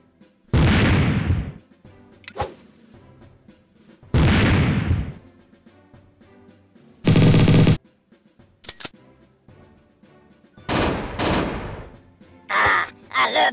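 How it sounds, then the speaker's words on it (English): Grenades thrown and exploding in the mobile shooter game Mini Militia: a series of loud, separate blasts spaced a few seconds apart, with sharper clicks and pops between them. "Try throwing a few grenades."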